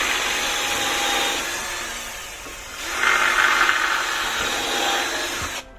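Power screwdriver driving screws through decking boards into a joist, two whining bursts of motor noise in close succession, fairly loud and near, ending abruptly.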